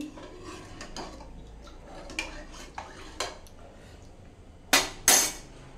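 Rasam with water and salt stirred in a pot, a few light scattered clinks of the spoon against the metal, then two louder sharp knocks near the end.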